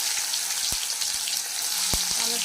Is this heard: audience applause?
no